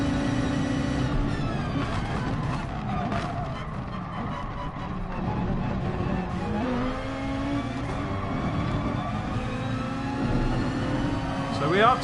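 Race car engine in a racing video game played with a T150 wheel on PS4 Pro, steady high-revving drone with gear shifts, under ongoing commentary.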